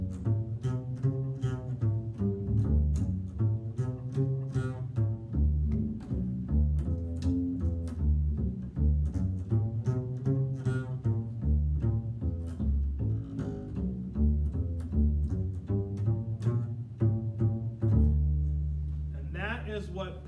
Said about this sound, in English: pizzicato is what the bass is probably most known for in jazz or things like this, and that sounds like this